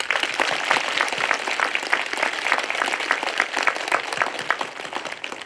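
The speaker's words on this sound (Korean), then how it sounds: "우리 모두를 위해서 감사와 격려의 박수를 보냅시다" A parish crowd at a Catholic church sports-day gathering breaks into steady, dense applause, many hands clapping together close by and continuing without pause.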